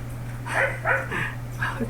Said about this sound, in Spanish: me están volviendo loco las perras y no sé si ustedes las escuchan